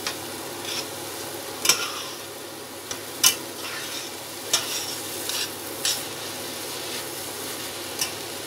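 Grated carrot halwa cooking in milk over a high flame, a steady soft bubbling sizzle broken by repeated sharp scrapes and taps of a spoon stirring against the pan.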